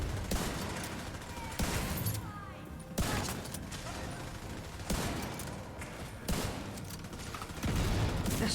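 Bursts of light machine gun fire in a first-person shooter match, loud dense volleys repeating in rapid waves across the whole stretch with brief gaps between them.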